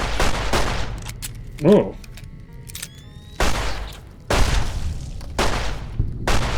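Gunshots from a weapon in the video game Fallout New Vegas, several loud sharp bursts spread across the moment, with a brief exclamation from a player and game effects in between.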